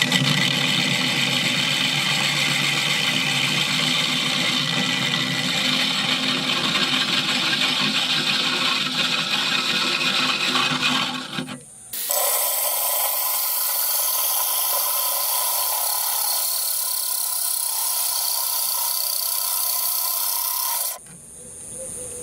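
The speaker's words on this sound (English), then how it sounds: "I'm just letting the weight of the bit and the drill do it" A drill bit grinds steadily through aquarium glass with light pressure, a continuous loud rasping whine that briefly cuts out near the middle, resumes with a brighter pitch, and drops off near the end.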